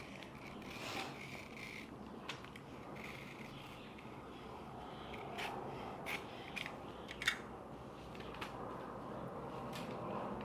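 Scissors snip slowly and carefully through a paper rectangle, cutting it into quarters: soft, intermittent crisp clicks and rasping cuts over a faint room background, with no talking.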